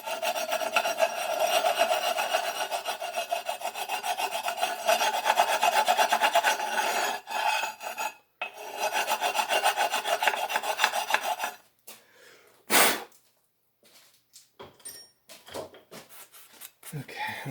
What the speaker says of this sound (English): Probably better deburr this front a little bit.